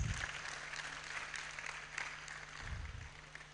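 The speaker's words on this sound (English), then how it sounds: "Please give us a round of applause." An audience at a university campus tour event gives a round of applause, a soft, distant wash of clapping that holds steady throughout.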